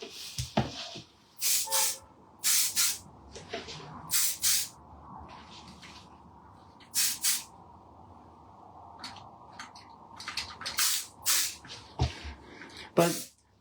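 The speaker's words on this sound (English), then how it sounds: "I'm going to be using the 9 Yards hairspray." 9 Yards hairspray sprays from an aerosol can in about eight sharp, loud hissing bursts of a second or so each, separated by quieter gaps with faint background sounds.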